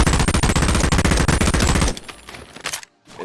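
Rapid automatic fire from a skeletonized M4A1 rifle in a Boneworks mod, a loud continuous burst of closely spaced shots for about two seconds, then a few scattered shots trailing off into silence.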